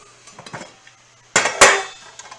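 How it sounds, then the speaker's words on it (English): A stainless steel pan is set down and shifted on a stove's back burner, with two sharp metallic clanks close together after some lighter handling knocks, near and fairly loud. "So let's get the pan going at level 3."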